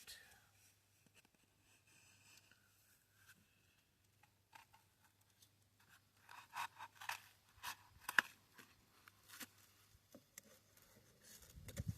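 Scissors cut through a cardboard toilet paper roll for seed starting with a run of close crisp snips and crunches, a soft voice and breath heard before.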